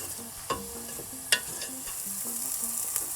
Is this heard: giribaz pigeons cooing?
no